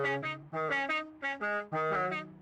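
Custom car horn on an Aston Martin Valhalla concept car in the racing game Forza Horizon 5, a series of short melodic honks in a quick musical phrase, clear and alone.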